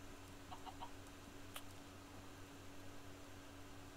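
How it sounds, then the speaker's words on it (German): A chicken in the video game Minecraft gives a few faint, short clucks over a steady hiss, then the clip quiets to low background noise. "Ja, jetzt habe ich ein Huhn."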